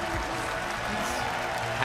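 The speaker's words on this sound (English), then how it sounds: "And there's the applause for Dyrus" Esports arena audience applauding a League of Legends player at the 2015 World Championship, a dense, steady wash of clapping and crowd noise that holds loud and unbroken throughout.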